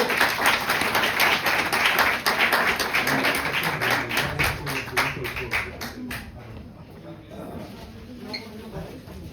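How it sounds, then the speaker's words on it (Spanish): Audience applause after a history talk fills the first several seconds as dense clapping, then thins and fades toward the end, with faint voices underneath. "Vamos a darle un aplauso"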